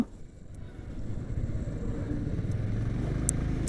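A motorcycle rides along a road with a steady engine hum and wind rush that swells gradually as another bike draws alongside and overtakes, with faint clicks scattered through the noise.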